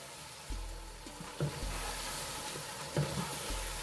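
Chicken korma with onions fries in a pot, giving a steady low sizzle with a few brief stirring knocks and scrapes, fairly faint and close, with no voices.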